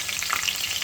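Green chillies and mustard seeds sizzle in hot oil, a dense, steady crackle heard close up and loud for the whole moment, with no talking.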